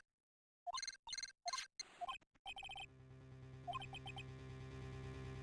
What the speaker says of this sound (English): you are not answering your phone